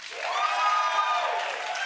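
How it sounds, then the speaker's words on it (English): Short burst of studio audience reaction on a dating game show, clapping mixed with rising cheers and whoops, moderately loud and lasting under two seconds. "Clap if you think it ought to be Travis"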